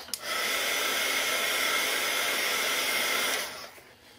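A heat tool blows steadily on red paint squiggles on an art journal page, a continuous airy whoosh that starts abruptly, holds at an even level for about three seconds, then cuts off and fades.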